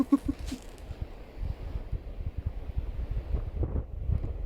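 Wind gusts buffet the microphone on a stormy day in polar-night Svalbard, a low rumbling, uneven roar with irregular pulses and no voices.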